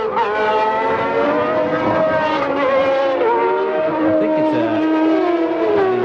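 Formula 1 cars race at the 1992 Japanese Grand Prix with a loud, continuous high-pitched engine scream, several engines overlapping and shifting in pitch as they accelerate and pass, heard without talk.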